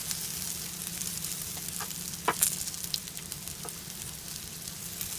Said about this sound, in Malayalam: ഇതിന് വീണ്ടും നമുക്ക് രണ്ട് മൂന്ന് മിനിറ്റ് കൂടെ ഒന്ന് ഫ്രൈ ചെയ്യാം